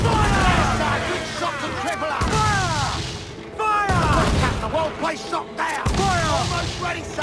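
Ship cannons fire broadsides in Assassin's Creed IV Black Flag, repeated heavy booms and crashing blasts in quick succession under game music and shouted crew voices.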